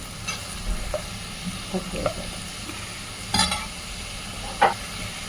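Chopped spinach fries in a pan with salt and turmeric as a spoon stirs it, a steady hiss broken by a few clinks and scrapes close by.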